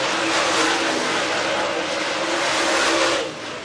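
Dirt track race cars roar around Talladega Short Track during a hot lap session at the Bama Bash, a broad, loud, continuous engine wash that eases off slightly at the end.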